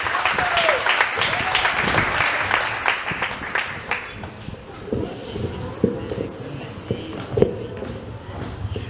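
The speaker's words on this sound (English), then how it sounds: "Give yourself a round of applause." Graduation ceremony audience applauding, a broad spread of clapping that thins and tapers toward the end, with a voice briefly heard early on.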